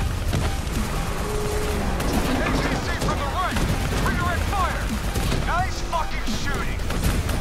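Gunfire and explosions in the Black Ops 3 video game campaign form a dense, continuous barrage of shots and booms with some whooshing effects, while players talk over the din.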